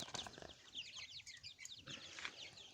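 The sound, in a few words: chickens clucking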